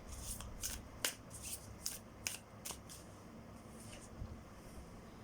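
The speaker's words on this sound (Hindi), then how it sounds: "एक ही कार्ड निकालूंगी, ज़्यादा नहीं" Tarot cards shuffled and drawn, a run of crisp riffling bursts and flicks repeating close up over a low steady background hum, no voices.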